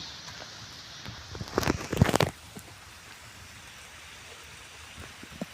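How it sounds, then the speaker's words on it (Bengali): Light drizzle falls in Bhawal National Park, a faint steady patter under a brief louder burst of close rustling or movement. "এই বৃষ্টি টিপটিপ বৃষ্টিতে"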